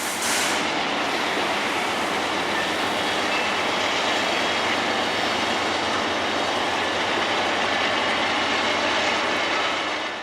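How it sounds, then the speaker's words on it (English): Diesel rumble of a CSX local freight train led by two AC44 locomotives, a steady broadband roar holding loud and close for the whole stretch with no voices over it. "A CSX local, led by a YN2 AC44 and a YN3 AC44, now giving clearance to proceed over Hawaii"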